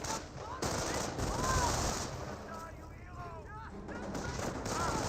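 Sustained machine gun fire in a Company of Heroes battle, dense rattling bursts with scattered ricochet-like whines, mixed with game voices and a commentator talking over the din.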